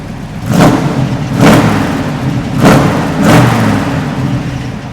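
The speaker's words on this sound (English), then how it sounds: "Listen to that lope on that cam." A Chevrolet Camaro SS 350 V8 with a lopey cam idles nearby, its exhaust note swelling in uneven, loping pulses about once a second.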